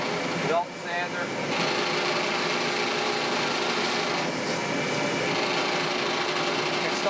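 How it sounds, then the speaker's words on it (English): A belt sander grinds wood in a continuous, close, abrasive whir that stays even throughout, with a short voice at the very start. "Belt sander."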